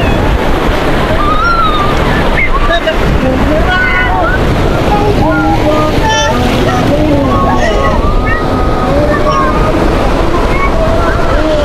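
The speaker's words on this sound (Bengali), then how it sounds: "ঢেউ আসতেছে।" Ocean waves surge and break on Sugandha beach at Cox's Bazar in a loud, continuous wash, heavily buffeted by wind on the microphone, with voices of a crowd of beachgoers mixed in throughout.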